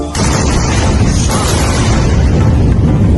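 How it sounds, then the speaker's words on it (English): Sonic booms from a returning SpaceX rocket booster landing, a sudden loud rumbling blast that hits at once and rolls on as a sustained, heavy low roar. "Double sonic booms."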